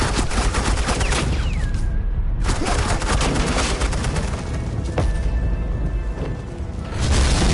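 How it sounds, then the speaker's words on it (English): Suppressing fire in Batman: The Enemy Within: a dense, continuous barrage of gunshots and blasts that roars without pause for several seconds, loud and close, with no clear voices. "Suppressing fire."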